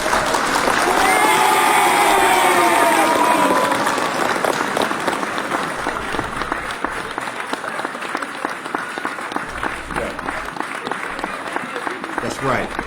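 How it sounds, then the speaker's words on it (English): An audience at an awards announcement claps after a wig, hair and makeup design win is read out, the applause starting full and mixed with cheering, then thinning into scattered, crisp individual claps. "Hit the claps for that."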